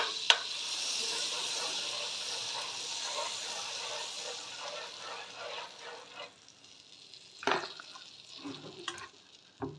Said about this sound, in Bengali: 5 মিনিট পরে আমি বাটার দিয়ে দিলাম